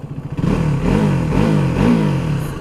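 A KTM Duke 390 motorcycle engine thumps close by, its deep, throbbing note rising and falling as the rider rolls the throttle through short revs.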